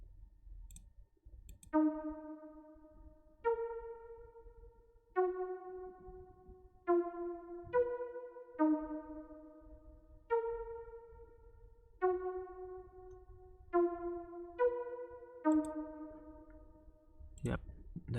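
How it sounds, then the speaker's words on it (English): A bright plucked synth in an LMMS flute trap beat, playing a simple repeating melody of short decaying notes at a steady pace, clear and isolated over faint low noise. "The last sound is a pluck."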